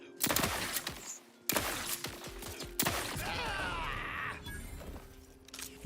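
Gunfire in the video game Outer Worlds 2 on very hard mode, several loud sharp shots in bursts with mechanical clatter and crackling impacts between them.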